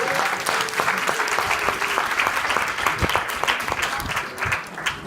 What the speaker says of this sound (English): Let's give David and Haley a big round of applause.